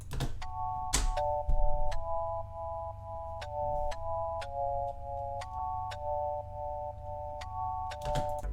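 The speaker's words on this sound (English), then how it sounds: "later on in the song, this high-pitched piano comes in" A bright, high-pitched synth piano riff from a remake of a song, playing repeating two-note chords in a steady rhythm, with a sharp clicking percussion hit on each note over a low bass hum.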